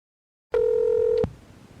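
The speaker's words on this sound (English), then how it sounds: "Get Farnsworth on the phone." A single telephone dialing tone sounds alone, one steady beep lasting under a second, loud and close, ending with a sharp click.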